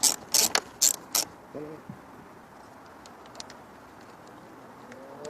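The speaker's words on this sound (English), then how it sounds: "with the same 10mm socket, we're going to remove the 2 bolts to the top of the air box" Quick ratchet clicks from a 10mm socket loosening the air box bolts on a 2002-2006 Lexus ES300/ES330 or Toyota Camry come in four short bursts, then stop and leave a quiet workshop background.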